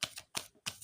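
Tarot cards shuffled by hand in a quick last shuffle, three soft riffling bursts in rapid succession, close but quiet.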